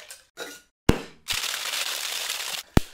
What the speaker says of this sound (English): I'm going to add ice and shake this for about 20 seconds